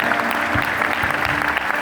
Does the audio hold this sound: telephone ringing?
no